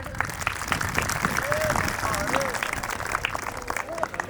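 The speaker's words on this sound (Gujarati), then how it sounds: "તાળીઓ તો વગાડો." An audience claps at a community ceremony held by a Kshatriya Rajput society, with dense applause running throughout over a reverberant hall while a voice calls out over it.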